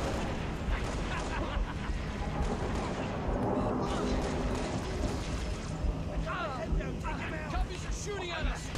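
Enemy gunfire in Halo Reach comes as repeated sharp bursts and rumbling blasts in a dense, noisy battle, with a person talking excitedly over it.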